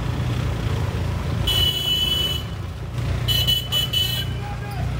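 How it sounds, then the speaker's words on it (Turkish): A car horn honks on a road trip to Kartepe, two bursts of bright beeping, the second in a quick stuttering pattern, heard from inside a moving car over road noise and cabin rumble. "Ne basıyorsun dat dat kornaya kardeşim?"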